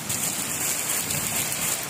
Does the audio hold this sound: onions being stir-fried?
no